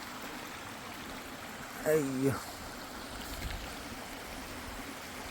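A small waterfall stream flows with a steady, even rushing wash, moderately close, while a voice briefly exclaims partway through.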